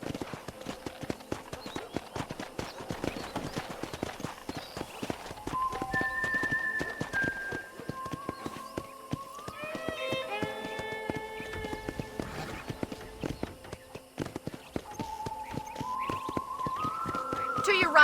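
A horse's hooves clip-clop in a steady walking rhythm through a ranch in the video game Red Dead Redemption. The hoofbeats continue throughout, with light music and a few other game sounds layered over them.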